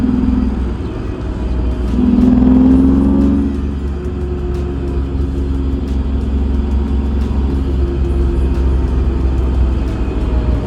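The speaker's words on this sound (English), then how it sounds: "So now let's take the car out for a little test spin and see how it feels." BMW E46 drift car out on a test spin, heard from inside as a steady engine drone with a brief swell of revs early on, plus road and wind rumble throughout, no talking.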